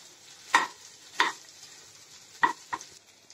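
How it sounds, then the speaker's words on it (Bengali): Cauliflower fried with spices for a korma, stirred in the pan: four distinct scraping strokes over a low sizzle, close and clear, with no talking. "এভাবে আমি 2-3 মিনিটের মতো ফুলকপিটার সাথে মশলাটাকে কষিয়ে নিব।"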